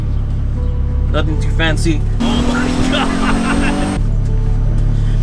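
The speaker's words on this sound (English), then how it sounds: "So I'm just gonna go for a drive around the block." Turbocharged BMW E46 driving around the block, its steady low engine drone continuous and loud up close, with someone talking over it part of the way.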